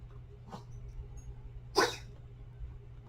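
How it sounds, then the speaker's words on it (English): A dog makes two short, faint snorting sneezes in the background, the second louder, against a quiet room hum. "Sorry, that's my dog in the background."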